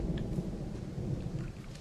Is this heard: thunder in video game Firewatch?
yes